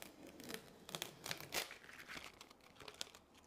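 Adhesive vinyl transfer tape peels away from a water bottle in a series of close crinkling, tearing bursts, fairly quiet and uneven, with no talking.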